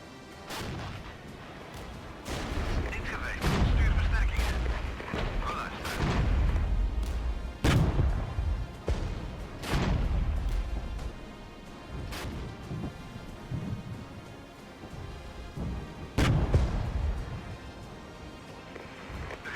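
Artillery firing in the strategy game Regiments sends a dozen or so heavy, booming blasts over about twenty seconds, some close and loud and others rumbling behind, against a constant battlefield din.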